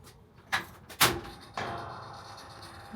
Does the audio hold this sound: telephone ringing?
no